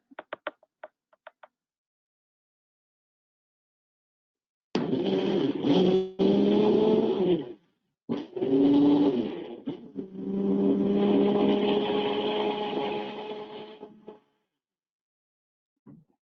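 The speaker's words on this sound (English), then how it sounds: "we're just going to put the blender on" A kitchen blender pureeing hummus ingredients runs in three loud whirring bursts with a droning motor tone, separated by short pauses and preceded by a few light taps.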